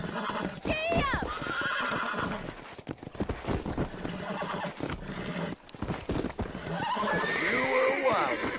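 Horses in the Red Dead Redemption video game whinny in rising, strained calls and gallop with steady hoofbeats, loud and close throughout, with a voice urging them on over the noise.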